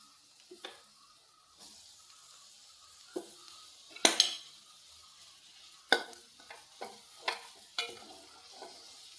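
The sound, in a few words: soybean roast being stirred and frying in a pan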